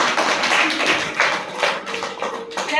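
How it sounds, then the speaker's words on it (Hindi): Schoolchildren at a primary school clap together in a dense, steady burst of overlapping claps, close and loud throughout. "दादाजी के लिए जोरदार तालियां।"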